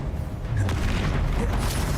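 A Confringo spell explodes in Hogwarts Legacy, a rumbling, booming blast with low-end roar that stays loud and dense throughout.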